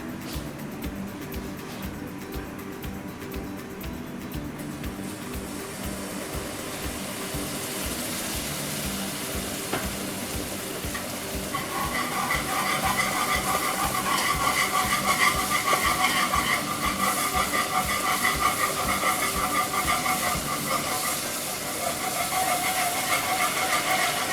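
Stock is poured into a hot pan of melted ingredients for a white lasagna sauce, setting off a loud, steady sizzle and hissing steam that swells partway through and keeps going with no talk.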